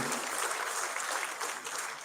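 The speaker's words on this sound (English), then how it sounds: "Please give a round of applause." An audience at an Independence Day gathering claps to welcome a guest leader; a short, close wash of steady applause with no voices.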